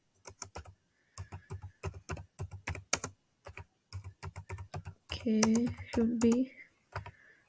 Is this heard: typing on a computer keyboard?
yes